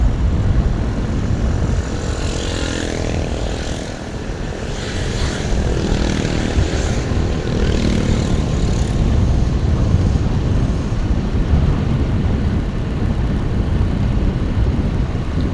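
A group of motorcycles arrives on a mountain road near Mount Sumbing, with loud engines droning and swelling as several bikes pass close by, continuous and heavy.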